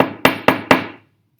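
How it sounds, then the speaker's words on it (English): A hammer strikes pieces of a lab substance three times in quick succession, sharp, close, loud knocks on a hard surface, each followed by a short ringing decay, with no talking. "I'll take a couple pieces of substance B and hit them with the hammer."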